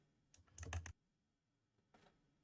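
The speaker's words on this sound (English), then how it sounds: "I can hear Hark clicking insanely" Rapid keyboard and mouse clicking at a computer, a quick burst of several close taps followed by a pause and a second short cluster, faint and close with no talking.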